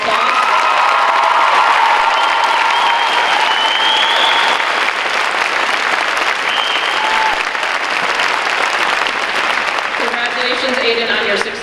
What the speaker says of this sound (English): Aiden Leary, please stand for a special applause.